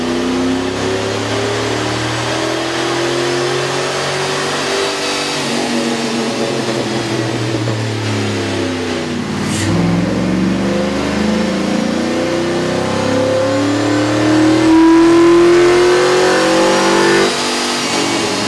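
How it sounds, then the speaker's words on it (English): A 1999-2006 Chevy/GMC truck engine with a K&N cold air intake revs up and down repeatedly on a dyno, rising and falling in pitch, loud and steady throughout with no voices. "we ran the vehicle on the dyno to test the sound comparison versus the stock intake"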